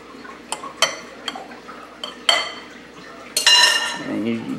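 Potatoes are mashed with butter in a bowl: a series of separate knocking clinks of utensil on bowl, then a longer wet scraping squish, close and moderately loud.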